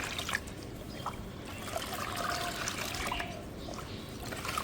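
Water trickles and sloshes softly at close range as humic acid liquid is mixed into it for bougainvillea plants, a faint, continuous liquid sound.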